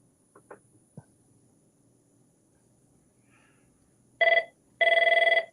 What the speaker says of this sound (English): He got a phone call as well.